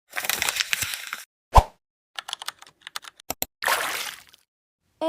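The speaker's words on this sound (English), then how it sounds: "My favorites are keyboard sounds and wave sounds and paper uncrumbling because they match my transitions." A string of cute editing sound effects plays in quick succession: a short burst of wave noise, a watery plop, scattered keyboard typing clicks, then a rustle of paper uncrumbling, each crisp and close with silent gaps between.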